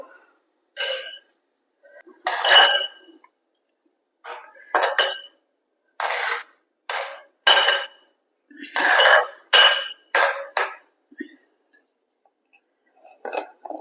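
A spoon clanks and scrapes against a cooking pot in short, irregular bursts as vermicelli is stirred. The sounds come close and crisp, with silent gaps between the strokes.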